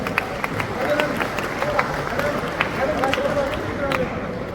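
Audience clapping at an event honoring UPSC achievers and their parents in Haryana, a steady wash of many hands under a speaking voice and crowd murmur.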